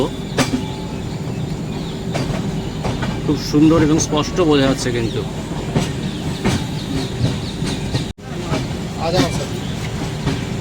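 A train rumbles steadily along the rails with a rhythmic clatter, heard from on board, passing Agra Fort toward Agra station, while a person talks over the noise.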